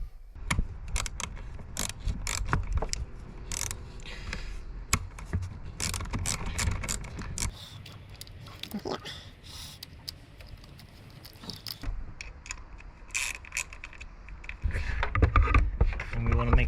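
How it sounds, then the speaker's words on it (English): Long T30 screws are driven back into a car's EGR valve with a ratcheting tool, giving rapid, close ratchet clicks and metallic rattles in uneven bursts at moderate volume. "Now we just need to put the long screws back in."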